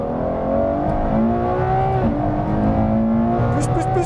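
A Ferrari F12 TDF engine pulls under hard acceleration with rising revs and steady, close engine drone for a few seconds, with no talk over it.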